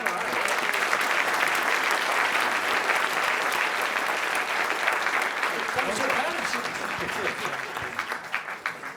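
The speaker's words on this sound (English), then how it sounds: "Another round of applause for Chris Kent, everybody." A conference audience gives sustained, dense applause that carries steadily across the whole stretch and thins slightly toward the end.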